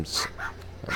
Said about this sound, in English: Oh, you can hear my dogs too.